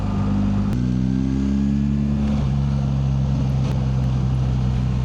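BMW R 1300 GSA adventure motorcycle, 2025 model, revving its engine in a steady drone that steps up in pitch, loud and close, without speech.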